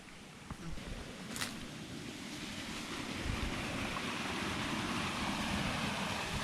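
Steady broadband rush of a newly filled creek, loud and close, with cold wind buffeting the microphone throughout.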